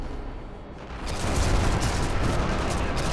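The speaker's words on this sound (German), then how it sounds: "Irgendwo ist eine Granate neben mir explodiert." A grenade blast in the Sniper Elite V2 game: a loud, broad, rumbling roar that swells about a second in and then holds, with dense low-end boom and noisy debris texture throughout, no voices.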